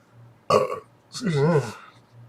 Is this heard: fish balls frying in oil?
no